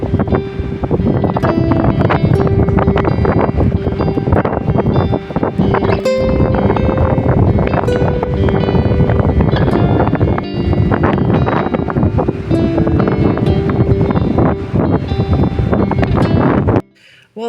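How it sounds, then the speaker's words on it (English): Strong wind blows outdoors in Denmark, buffeting the microphone in a loud, continuous roar with gusty flutter for many seconds before cutting off abruptly. "Welcome to another very windy day here in Denmark."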